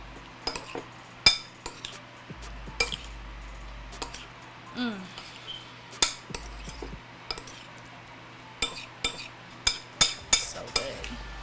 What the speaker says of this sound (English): I'm going to use a spoon. Get it a stir.